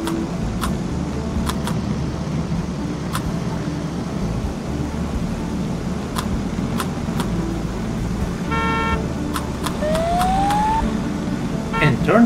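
A car in the PAW Patrol World video game drives over a bridge, a constant motor rumble with game chimes, a short toot and a rising tone laid over it.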